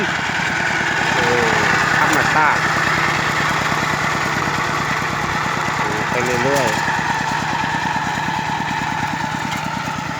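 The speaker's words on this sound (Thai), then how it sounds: "รถไถกับรถไถเดินตาม" A small two-wheel walking tractor engine chugs steadily with a rapid, throbbing putter nearby, while people talk over it.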